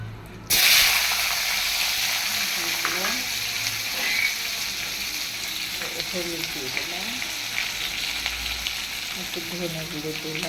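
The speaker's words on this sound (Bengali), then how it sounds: "এই আমি ফোড়ন দিয়ে দিলাম" Whole spices tempered in hot oil for a fish curry with taro, a loud crackling sizzle that bursts in and then settles into a steady frying hiss with faint utensil scrapes.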